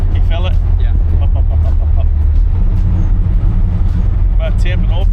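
A Ferrari Testarossa on the road, not yet shifted into top gear and on bad tires, drones with a loud, steady low engine rumble and road noise throughout, while people talk over it.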